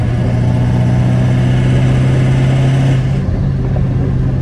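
A Ford 6.0 Powerstroke diesel rated around 700 hp, with an Omni GT turbo and smoking injectors, holds a loud, steady rev under light throttle, then eases off near the end.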